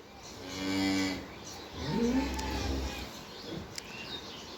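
Two low, drawn-out moos from a bull sound close by, the second rising and falling in pitch, with faint birdsong in the background.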